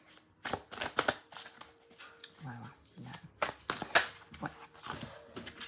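Tarot cards are shuffled in quick riffling bursts, close and crisp, while someone talks quietly over them.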